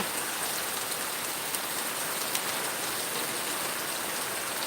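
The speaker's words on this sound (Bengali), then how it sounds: "বৃষ্টির সাথে সাথে হাওয়া" Steady heavy rain with wind pours down continuously, a dense even hiss with no breaks, close and loud throughout.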